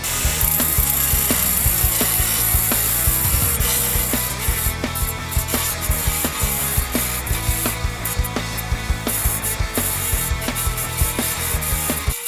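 Tile pieces being nicked and smoothed down while cutting a circle in tile, a continuous loud grinding, rasping scrape with rhythmic ratcheting pulses, close up and steady throughout, no voices.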